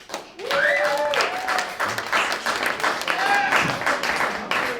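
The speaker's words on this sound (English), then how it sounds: "Round of applause here if you're in a relationship or married right now." A comedy club crowd claps and cheers, loud and continuous for several seconds, with shouts and whoops rising over the dense clapping.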